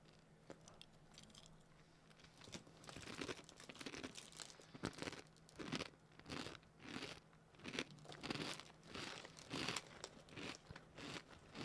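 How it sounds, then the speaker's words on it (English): Crunchy food is munched and chewed close to the microphone in a steady run of crisp bites and crackling chews, loud and without talk, during an ASMR stream. "I hope that my munching isn't too obtrusive for you."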